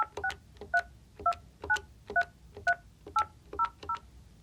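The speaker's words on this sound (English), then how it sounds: "The first way is a hands-free dial." Touch-tone DTMF beeps from hands-free dialing on a Yealink T48 VoIP desk phone, about a dozen short, evenly spaced dial tones in quick succession, clear and alone.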